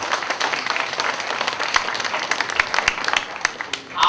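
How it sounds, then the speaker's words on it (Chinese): Applause from a college audience at a campus environmental event after a sign-language song performance, a bright crackling spread of many hands clapping steadily throughout, fading slightly near the end. "我们再给慈心社一个热烈的掌声"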